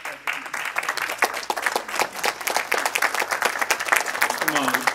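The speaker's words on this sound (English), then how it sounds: "Come on, give him a round of applause." A crowd applauds at a community event, with loud, sustained clapping and sharp individual claps close by, and a voice briefly cutting through near the end.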